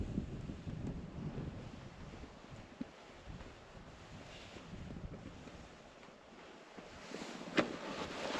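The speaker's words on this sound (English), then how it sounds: "I think it's just the wind. The wind is blowing pretty good right now." Wind gusting through a deserted ghost town, a steady low rumble that buffets the microphone for the whole stretch, with one sharper knock near the end and no voices.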